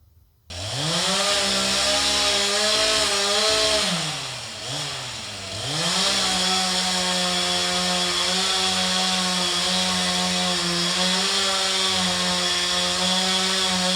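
Chainsaw cutting down a tree, a loud close whining engine that sags briefly as the blade bites, then holds a steady high drone for several seconds without talk.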